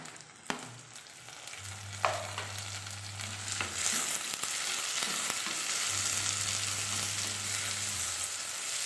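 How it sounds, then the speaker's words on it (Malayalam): Curry leaves and chopped tomato frying in a pan for Kerala fish curry with coconut milk, a soft steady sizzle with a few clinks and stirring scrapes, close and quiet, with no speech. "കുറച്ച് കറിവേപ്പില ഇട്ട് കൊടുക്കാം ഇതിലോട്ട് നമുക്ക് അരിഞ്ഞിട്ട് തക്കാളി കൂടി ഇട്ട്"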